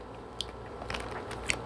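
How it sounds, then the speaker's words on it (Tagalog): Someone bites into crunchy chocolate-coated sticks, giving a few quiet, sharp crunches over a steady low background hum. "Pag kinagat mo, malutong."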